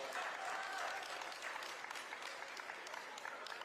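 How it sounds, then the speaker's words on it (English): A crowd claps at a youth fair livestock show in Berkeley County, producing a continuous, dense roll of applause that stays fairly even and slightly distant throughout. "give you a big round of applause"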